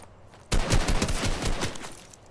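Rapid automatic gunfire in Fortnite bursts in suddenly after a quiet moment, a loud, fast string of shots lasting about two seconds before tapering off.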